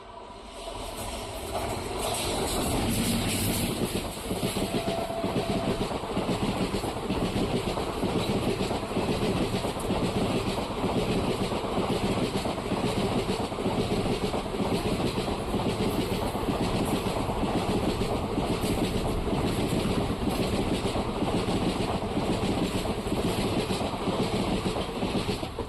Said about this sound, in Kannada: ಕಾಕಿನಾಡೆಯಿಂದ ಮೈಸೂರಿಗೆ ಹೋಗೋ ಸ್ಪೆಷಲ್ ಎಕ್ಸ್ಪ್ರೆಸ್ಸು ಓವರ್ಟೇಕ್ ಮಾಡ್ತಿದೆ